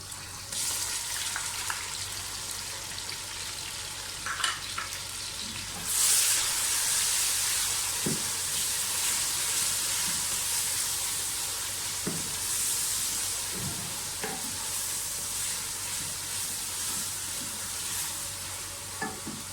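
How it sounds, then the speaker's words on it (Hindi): Garlic ginger paste fries with cinnamon sticks, cumin, black cardamom and black pepper for mutton aloo gosht, a soft steady sizzle with occasional scrapes of a stirring spoon against the pan. "लहसुन अदरक अच्छी तरह से फ्राई हो गया है"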